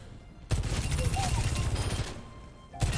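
Sojourn's railgun in the video game Overwatch 2, a burst of rapid, loud energy shots with a crackling sustained blast, then a quieter lull and another sharp shot at the end.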